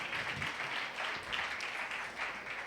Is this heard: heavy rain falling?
no